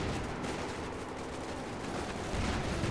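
Gunfire in the Company of Heroes 2 war strategy game, a dense continuous crackle of rifle and machine-gun shots mixed with distant rumbling, moderately loud and steady with no voices.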